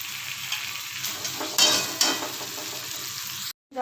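Spiced potatoes and pointed gourd sautéing with a splash of water in a pan, a steady close sizzle with bursts of louder crackle as the mix is stirred, cutting off abruptly near the end.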